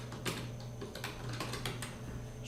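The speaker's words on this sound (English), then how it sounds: "we'll just type" Fast, light key clicks come from a computer keyboard as text is typed in a design program, a steady close patter of keystrokes with no voice.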